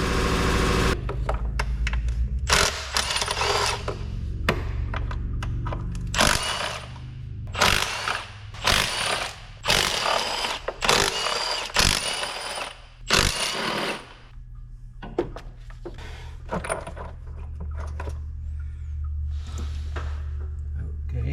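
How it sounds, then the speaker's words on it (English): An air compressor cycles on and off in bursts in a garage during repair work on a 2018 GMC Acadia, loud rattling runs broken by pauses, with quieter mechanical noise between. "Air compressor noises."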